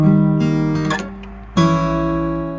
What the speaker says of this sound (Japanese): これがディミニッシュセブンスの音です